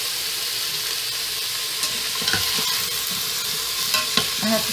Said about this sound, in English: it does look better when it's in a frying pan, but seriously, sauteing is sauteing